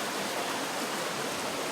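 Water running in a creek beside a bridge on a mountain trail, a steady broadband rush that stays even and close throughout with no other sounds.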